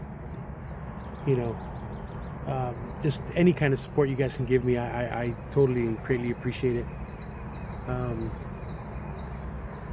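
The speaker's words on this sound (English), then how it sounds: "Those are some loud birds." Birds chirp and trill loudly in rapid bursts close by, with a steady high insect buzz behind them while a person speaks throughout.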